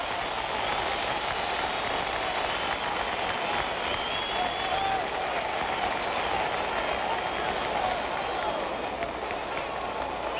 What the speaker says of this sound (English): Crowd is starting to applaud.